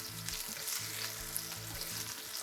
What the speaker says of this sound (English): So we'll cook it at a higher heat on this side until they get a good little golden sear